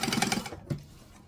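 Sewing machine stitching forward and then briefly back-stitching while sewing a Tiny Cata pattern piece, a fast mechanical patter that stops, with a short bump of the reverse stitch after a pause.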